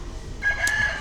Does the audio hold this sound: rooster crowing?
yes